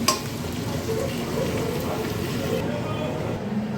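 Tomato, green chili and whole garlic cloves frying in a pan for a Bengali garlic chicken curry: a steady, close sizzle and crackle running throughout, with a faint stir scrape at the start.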